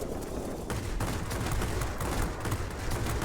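Rapid, sustained 37mm cannon fire from an aircraft in World of Warplanes, a dense continuous stream of booming shots with steady rhythm and loud throughout, mixed with engine drone.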